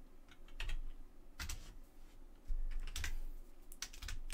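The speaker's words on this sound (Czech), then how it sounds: "Kliknutí na klávesy." Computer keyboard keys clicking during Python coding, in irregular bursts of close, crisp clacks with short pauses between them and no voices.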